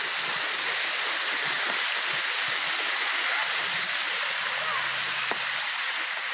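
A tall waterfall runs with reduced summer flow, giving a constant, close, full-band roar of falling water that stays even throughout, with faint speech mixed underneath.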